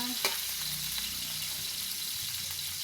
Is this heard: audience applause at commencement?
no